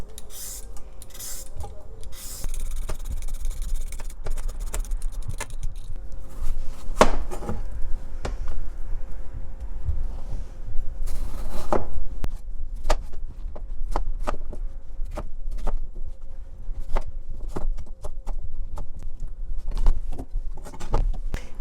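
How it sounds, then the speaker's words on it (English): Potato peeler scraping the skin off a cucumber, a long series of repeated short rasping strokes at a steady rhythm, close and fairly loud, with some light clatter of kitchenware. "I'm using my potato peeler to just peel the skin off of the cucumber"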